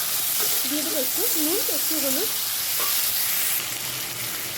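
Cut potatoes fry in a pan for a poppy-seed potato dish, giving a loud, steady close-up sizzle and hiss, while someone speaks briefly over it and a utensil stirs.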